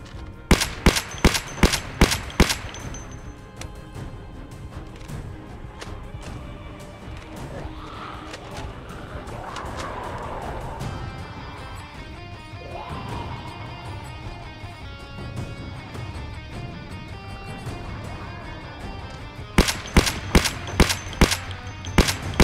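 Rapid gunfire bursts in Project Zomboid, sharp repeated shots at the start and again near the end, with a long stretch of muffled game ambience and faint voices between.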